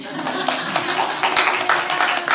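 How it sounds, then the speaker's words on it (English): Scattered clapping from a small audience at a New Thought celebration service, a few hands patting briefly and unevenly, with faint voices underneath. "You can applaud for me too. Go ahead."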